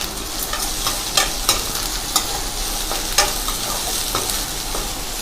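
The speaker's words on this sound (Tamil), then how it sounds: "சேர்த்து நல்லா வதக்கிக்கலாம்." Small onions sautéing with salt in a pan for a Tamil beans koottu, a steady close sizzle with occasional scrapes and taps of a spoon stirring, no voices.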